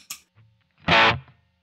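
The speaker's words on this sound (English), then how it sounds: "Now, the bonus is we've got a built-in reverb" A MayFly Audio Sunrise amp simulator sounds one short burst of guitar tone with its built-in reverb, a brief loud swell that rings out and fades over a fraction of a second, following a couple of faint plucks.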